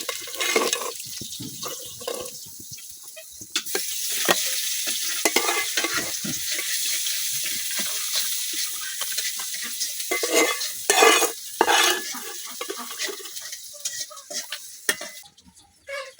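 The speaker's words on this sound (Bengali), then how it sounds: "এই বড়াগুলা কিন্তু আমি দুনো সাইড উল্টায় পাল্টায় খুব সুন্দরভাবে ভাজে লইছি" Taro fritters (bora) sizzle steadily in hot oil with a broad hiss, punctuated by scraping and stirring clatter as they are turned, loud and close throughout.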